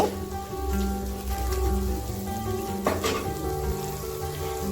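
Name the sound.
ginger, chili and turmeric powder being stirred while frying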